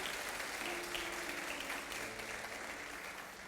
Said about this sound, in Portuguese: Melhore o seu aplauso, vamos lá,